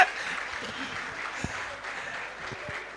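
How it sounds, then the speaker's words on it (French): Audience applause at a comedy show, the Nuit du Rire, a steady wash of clapping from a crowd lasting throughout, moderately loud with a few sharper individual claps standing out. "On va applaudir très fort pour ce métier."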